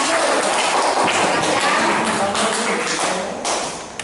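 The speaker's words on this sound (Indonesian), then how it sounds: "Kita kasih aplaus untuk kelompok 1." A classroom full of students claps for a group, a dense, close burst of applause that holds for several seconds and then tapers off, with voices mixed in.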